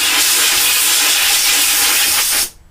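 Loud, steady hiss of compressed air venting from a large air compressor tank, continuous for over two seconds before cutting off abruptly.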